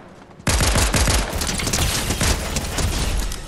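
Gunfire from OG weapons in the video game Fortnite: a sudden, loud, sustained barrage of rapid automatic shots that carries on without pause.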